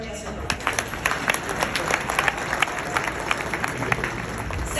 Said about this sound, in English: So please, a round of applause for Qeisar Dar.